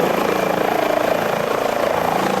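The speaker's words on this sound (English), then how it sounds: "the helicopter is of course louder when viewed outside" An Airbus H145 helicopter in Microsoft Flight Simulator 2020, heard from outside: steady rotor drone and engine whine, loud and continuous, with a rapid thumping pulse throughout.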